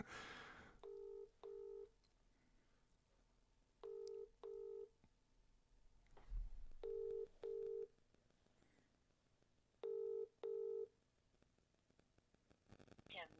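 A phone call placed to an EE mobile number: four pairs of ringback tones, evenly spaced and fairly quiet, with faint voices and room noise underneath.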